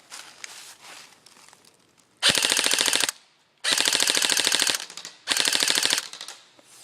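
An airsoft G&G GR4 G26 rifle with a CP1 red dot fires full auto at a target 50 feet away: three loud, rapid rattling bursts of about a second each, separated by short pauses and faint handling noise.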